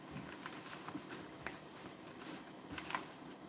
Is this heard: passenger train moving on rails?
no